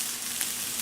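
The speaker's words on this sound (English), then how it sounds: "What you want to do is saute until the mushrooms are soft" Mushrooms sautéing in a pan, a brief steady hiss of frying sizzle, close and continuous for under a second.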